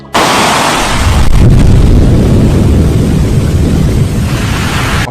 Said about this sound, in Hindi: लेकिन तभी एक जोरदार धमाका होता है